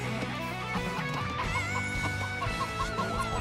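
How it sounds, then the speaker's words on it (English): Chickens cluck repeatedly in the real-time strategy game Age of Empires II: Definitive Edition, short bright calls recurring over a dense, busy layer of game music and ambience. "Are those chickens oddly loud"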